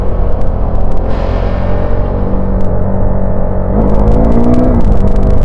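A KTM Duke 390 with an RD Powertronic module accelerating hard in second gear without the clutch, with a loud, close, continuous engine roar and pitch climbing steadily under wind rush.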